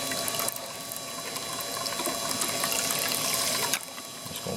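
Steady rush of water washing sediment down a small gold trap sluice, continuous broadband splashing from close by that cuts off sharply near the end, with no talking.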